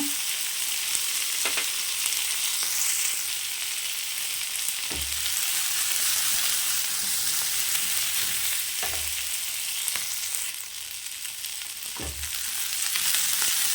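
Cinnamon, cloves, poppy seeds and fennel frying in oil in a pan, a steady close hiss of sizzling with a few soft thuds of stirring, no voices.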